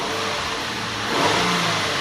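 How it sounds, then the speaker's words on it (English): A Mazda CX-9 V6 with a misfire, fitted with new spark plugs and ignition coils, revs up from idle in one rising, steady surge of engine roar, recorded up close. "Let's rev it up a little bit."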